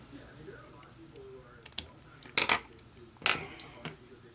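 Scissors snipping through a decal sheet on a ventriloquist dummy, a few sharp crisp cuts close by in a quiet room, with several seconds between them.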